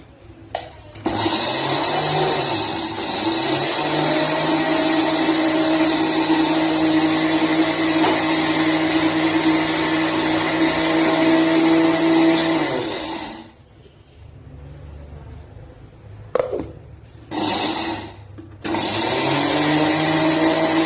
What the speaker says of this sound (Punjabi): ਇਹਨੂੰ ਆਪਾਂ ਇੱਥੇ ਮਿਕਸੀ 'ਚ ਰੱਖ ਲੈਣਾ ਤੇ ਉਸ ਤੋਂ ਬਾਅਦ ਇਹਦਾ ਬਣਾਉਣਾ ਪਾਊਡਰ